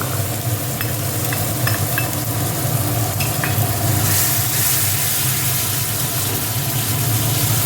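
Chopped onion sizzles steadily in a hot pan as a ground paste of cumin, coriander and chili goes in, with a constant frying hiss and occasional stirring scrapes, close and fairly loud.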